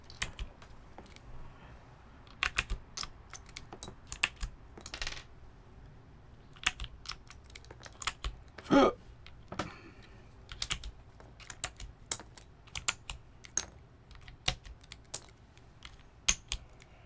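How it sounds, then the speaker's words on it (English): Keycaps are pried off a Realforce keyboard, producing a string of sharp plastic clicks and clacks at irregular intervals, close and fairly quiet with no talk. "I also need to take off enough keycaps to pull the frame out"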